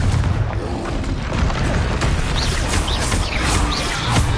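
Confringo spell explosions in the Hogwarts Legacy video game, dense rumbling booms and crackling blasts layered together, loud and continuous with sharp bursts scattered through.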